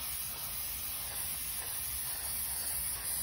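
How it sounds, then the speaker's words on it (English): Mod Podge spray sealant hisses from an aerosol can in a steady continuous spray over resin dominoes, close and alone with no talking. "And I'm gonna just lightly spray over it."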